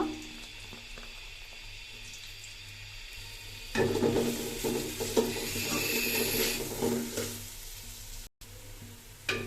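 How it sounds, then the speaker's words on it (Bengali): Onions hiss and crackle in hot oil for chicken biryani, a soft sizzle that swells louder as they are stirred, close up and without talk. "প্রথমে আমি পেঁয়াজটা দিয়ে দিলাম, এরপর একটু ব্রাউন কালার হলে আমি উঠিয়ে নেব"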